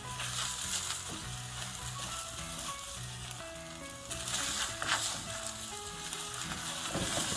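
Eggs fry in a pan for a Jamaican breakfast, giving a steady crackling sizzle that intensifies midway while they are turned, with soft music playing underneath.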